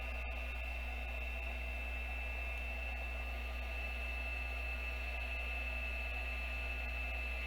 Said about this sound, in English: get your heat gun on, and give it a little bit of a blast